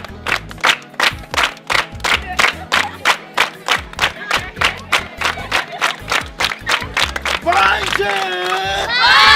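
Group of people clapping in a steady rhythmic beat along to a comic puff puff dance, loud and near, giving way at the end to excited shouting and cheering.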